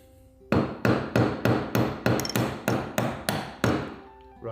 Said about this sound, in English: what I'm going to do, old school style, just use my chisel